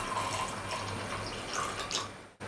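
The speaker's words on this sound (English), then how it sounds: "I'm going to add in half cup of water" Water is poured into a small bowl of rinsed kudampuli (Malabar tamarind) set to soak, a short, soft, close trickle over a low steady hum.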